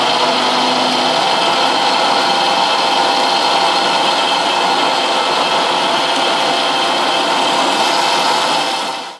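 A mixer grinder blends pineapple with water for a healthy drink, a loud continuous whirring roar that holds steady for about nine seconds before it cuts off.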